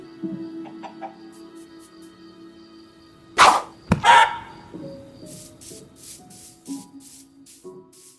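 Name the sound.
chicken being killed, Minecraft music track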